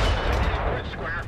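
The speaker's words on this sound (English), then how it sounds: "I was shooting a little bit too high" A tank's main gun fires in the War Thunder video game, a single loud booming blast with a heavy low-end rumble that fills the whole moment.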